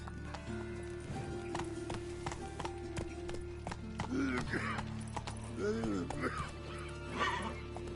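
Roach, the horse in The Witcher 3, gives several short whinnies over a steady clip-clop of trotting hooves, with game music and ambience running underneath.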